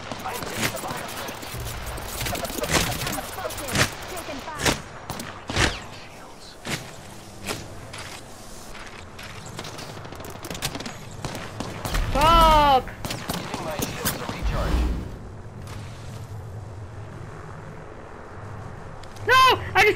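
Battle royale video game gunfire: scattered sharp shots and bursts crack out in an irregular rhythm across a busy, fairly loud game mix, with a few louder thumps near the end and occasional speech.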